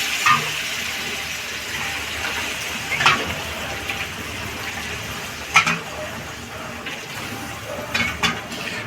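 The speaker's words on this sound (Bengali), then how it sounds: "সবসময় তরকারিতে গরম জল ব্যবহার করবেন।" Cauliflower curry with bori in a hot pan: a steady close sizzle and bubbling with faint watery sounds and occasional clinks and scrapes of stirring, with no speech.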